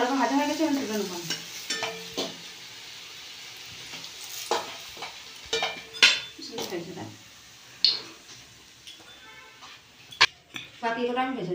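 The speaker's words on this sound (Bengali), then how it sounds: "বাকিগুলো আমি ভেজে নেব।" Jackfruit kofta balls frying in oil, a soft sizzle under frequent talk, broken by sharp clinks of a spoon and utensils against the pan.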